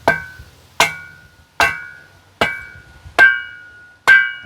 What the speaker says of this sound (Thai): นี่ตอกใช้ไม้นี่